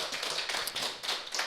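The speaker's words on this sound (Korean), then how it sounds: "우리 하나님께 감사 영광의 박수를 올려드리겠습니다" A church congregation claps together during a worship prayer meeting, a steady dense patter of many hands that holds at an even level with no talking.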